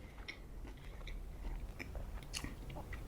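Quiet close-up chewing of noodles mixed with crunchy vegetables, with a few soft crisp bites and moist mouth sounds over about three seconds, no talking.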